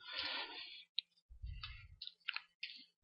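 Typing on a computer keyboard: a handful of irregular, close clicks and taps spread across a few seconds, with a brief low thumping in the middle and no voices.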